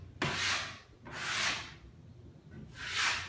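Wall plaster is sanded by hand, three long, close rasping strokes of abrasive paper with short gaps between them.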